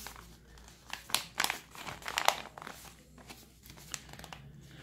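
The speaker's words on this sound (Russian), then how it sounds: "Так, Антоха, посылка готова" Coin parcel being packed for posting, its crinkling wrapping giving a run of close, irregular rustles and crackles with louder bursts in the middle and no talk.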